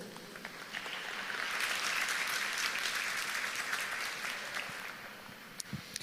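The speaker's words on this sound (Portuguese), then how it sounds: "Você pode aplaudir o Senhor?" A church congregation claps for the Lord after a prayer, a broad swell of applause that builds, holds for several seconds and gradually thins, heard from a moderate distance with a few louder individual claps near the end.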